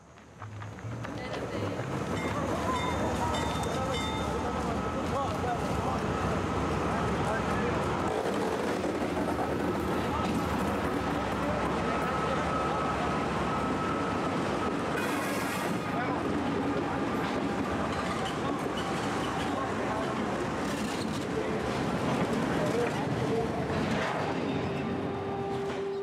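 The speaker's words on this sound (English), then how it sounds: "The train is soon going to accelerate." A freight train rolls along at night, giving a loud, continuous rumble with windy noise that fills the whole stretch and swells slightly near the end.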